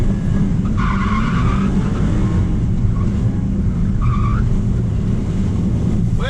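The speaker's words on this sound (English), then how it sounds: "We're gonna get Macca to give the BMW a skid" A BMW sliding on a track with its tyres squealing in short bursts over a loud, steady engine drone, the squeals rising and falling as it skids.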